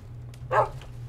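A single short dog bark from modded Minecraft sounds once over a steady low hum, brief and fairly close.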